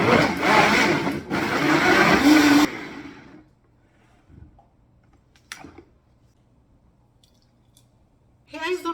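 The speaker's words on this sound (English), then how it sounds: "I'll be blending the antioxidant drink" A blender whirs loudly for about three seconds while blending an antioxidant drink made with broccoli and a glass cup of water. It then cuts off into near silence, broken only by a few faint clicks and handling noises.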